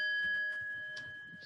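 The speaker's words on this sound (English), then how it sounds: "Each section will be separated by the ringing of the chime." A meditation chime rings out once near a yoga class, its long steady tone sustaining and slowly fading over about a second and a half, alone without talk.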